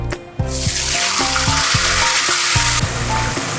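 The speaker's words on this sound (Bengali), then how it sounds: "কিশমিশগুলো ভাজা হয়ে গেছে, এবার একটু আমি এর মধ্যে জল দিয়ে দেবো" Water poured onto raisins frying in hot oil sets off a sudden, loud, hissing sizzle that stays strong and close for several seconds over faint background music.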